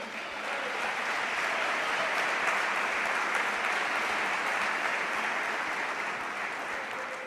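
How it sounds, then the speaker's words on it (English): Sustained applause from a large audience welcoming student minister Abdul-Hakeem Muhammad at a gathering, steady and even throughout with no voices above it. "Please welcome with a round of applause, brother student minister Abdul-Hakeem Muhammad"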